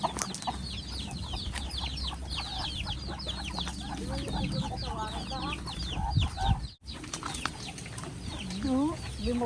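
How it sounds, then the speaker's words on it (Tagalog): Native chickens on a farm cluck and squawk busily in overlapping bursts, close and lively, with some wing flapping and faint background voices. "Daming manok ni Tita Ligaya."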